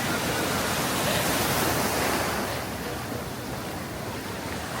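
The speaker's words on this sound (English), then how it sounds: "The waves are so crazy." Ocean surf on Da Nang beach in Vietnam, a steady loud broadband wash of breaking waves and water close by that eases slightly partway through, with no clear voices over it.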